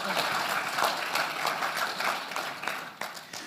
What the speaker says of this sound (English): Can you clap for our presenters